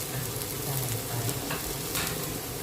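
Cucumber and egg are stir-fried in a pan, with a continuous close sizzle and the scrape of stirring running evenly throughout and no speech over it.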